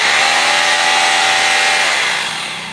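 A 900-watt three-mode rotary hammer drill runs at full speed with a loud, steady whine, then starts to wind down at the very end.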